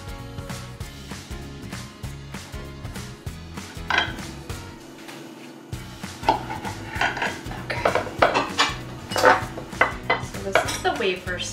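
A very big knife cutting and scraping through a partly frozen no-bake strawberry icebox cake with wafer layers, giving repeated knocks and metallic clinks against the dish, growing louder near the end, with no voices.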